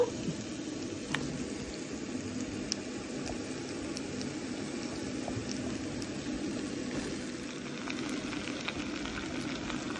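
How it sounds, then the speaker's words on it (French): Steady soft sizzle of aubergines and courgettes frying in a spoonful of oil in a saucepan, with occasional small pops and taps, fairly close. "j'ai mis une cuillère à soupe d'huile pour mettre à cuire les aubergines et les courgettes"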